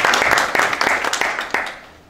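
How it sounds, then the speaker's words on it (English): An audience claps to welcome a speaker at a startup growth-hacking talk, a burst of sharp, dense applause that rings for about two seconds and then fades out. "please welcome Jörn with a clap"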